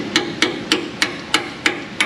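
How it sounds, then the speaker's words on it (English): Side cutters used as a small hammer while working on brakes in an auto repair shop, seven crisp metallic taps at a steady, even rhythm, close and loud with no talking. "my side cutters will also work as a little hammer."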